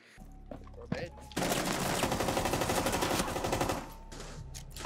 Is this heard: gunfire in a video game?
yes